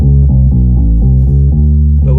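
A clean, deep bass guitar plays a steady run of low, round notes on its own, dry and close.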